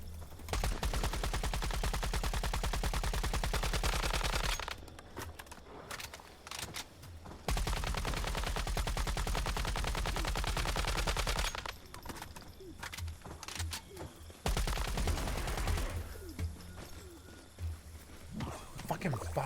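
Sustained automatic gunfire in a video game, emptying magazines: long rapid-fire bursts several seconds each, broken by short pauses, moderately faint, with talk in the background.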